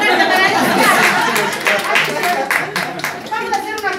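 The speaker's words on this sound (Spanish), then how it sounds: "un aplauso grande para Lucía" Audience clapping for a performer at a live show, a dense patter of applause mixed with crowd chatter and voices throughout.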